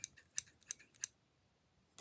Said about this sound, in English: Got these pretty scissors,